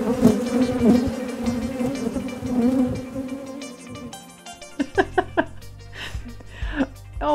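Bees buzz close and loud in a continuous drone, with voices and some laughter breaking in toward the end.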